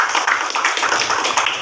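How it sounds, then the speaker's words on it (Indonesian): Classroom applause for a student group's presentation during a role-playing lesson, a steady, dense patter of many hands clapping close by, filling the whole moment without pause. "Beri tepuk tangan yang meriah."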